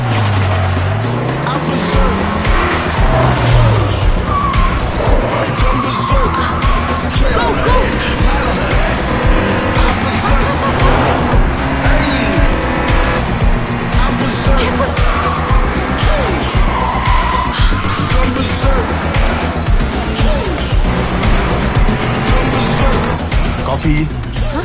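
Cars racing and overtaking in a Telugu film comedy scene, with engine roar, tyre squeals and skidding running steadily under music and speech.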